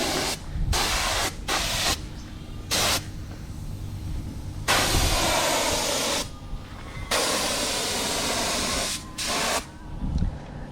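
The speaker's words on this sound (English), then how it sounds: "And now we are priming this frame as well," Spray gun priming a Mercedes-Benz Unimog frame: loud, steady hissing bursts of several seconds each, separated by short pauses, close and alone.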